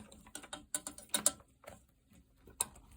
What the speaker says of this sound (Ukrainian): І далі збиваю.